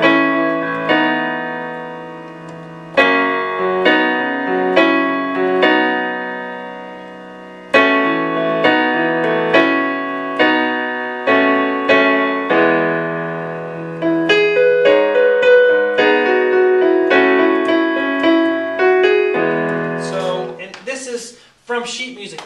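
Piano playing the intro of a song, a steady stream of clear chords and melody notes sustained close up, alone with no talking, fading near the end.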